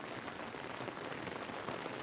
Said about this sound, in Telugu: ఇది మనం మా గ్రామంలో కురుస్తున్న ప్రస్తుత వర్ష వర్షం